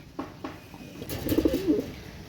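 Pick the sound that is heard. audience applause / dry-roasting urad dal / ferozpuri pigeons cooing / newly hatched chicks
ferozpuri pigeons cooing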